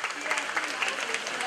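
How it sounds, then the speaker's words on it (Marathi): An audience claps for the leading teams at a Spandan 2015 quiz-style event, a dense, even burst of applause lasting a moment, with speech mixed faintly underneath. "तर या टीमसाठी जोरदार टाळ्या वाजवाय"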